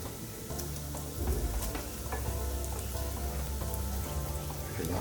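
Thick green spinach palak paneer gravy bubbles and sizzles in a pan while being stirred, a steady close crackling hiss with soft scraping strokes and no talking.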